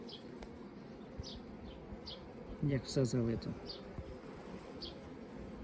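A steady, close drone of many honeybees buzzing at a nucleus hive fills the background while someone speaks briefly over it.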